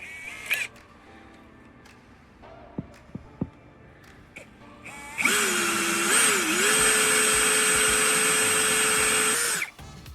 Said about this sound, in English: Let's get that in the drill.